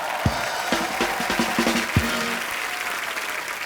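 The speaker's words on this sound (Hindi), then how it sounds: "एक बार अरशद भाई के लिए जोरदार तालियां।" A television comedy studio audience on The Kapil Sharma Show breaks into sustained, full applause, a dense wash of clapping under a few short musical stings.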